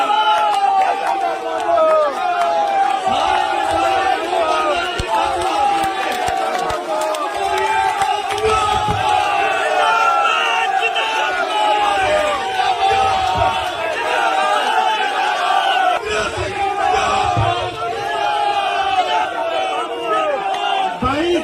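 A dense crowd of supporters roars and shouts continuously at an independent candidate's election nomination rally in Jhunjhunu, a loud, sustained wall of cheering and chatter with no break.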